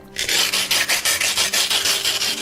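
Abrasive grit rubs back and forth between two pieces of glass to give them a matte surface, a rapid regular gritty rasping of about ten strokes, close and clear.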